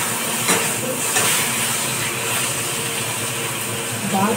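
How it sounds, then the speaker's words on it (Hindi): Taro root (arbi) roasting in a pan over a gas flame, a steady soft sizzling hiss with a few faint clinks of utensils. "गैस में जल रही है, फ्लेम चल रही है, हल्का हल्का भून रही है"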